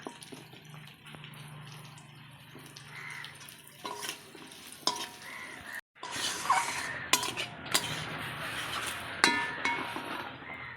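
Onion and capsicum frying in oil in a pan for chili chicken, with a low sizzle, clinks of a utensil against the pan and stirring scrapes, a brief gap, then louder sizzling and clatter.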